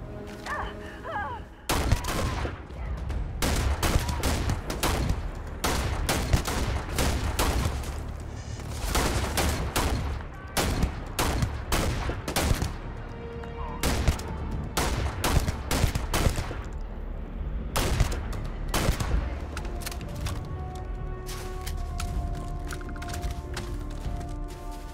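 Repeated gunfire from the player's gun in the video game Starfield: loud, close shots in irregular bursts and single cracks that continue throughout.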